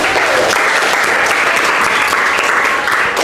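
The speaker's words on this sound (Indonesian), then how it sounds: "Ya, tepuk tangan dulu." Loud, steady applause from a group fills the whole stretch, dense clapping without a break.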